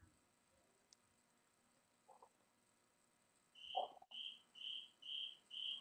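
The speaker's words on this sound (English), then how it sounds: "The cricket's going off in the background because I got no words." Cricket chirps in a quiet room, a regular run of five short pulses near the end, preceded by a few faint scattered knocks and rustles.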